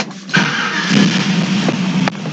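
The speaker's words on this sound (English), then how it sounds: "So I'll start up the car." A Chevrolet Chevelle hot rod fitted with a wideband oxygen sensor cranks briefly, then fires and settles into a loud, rough, rumbling idle close by, with no talk.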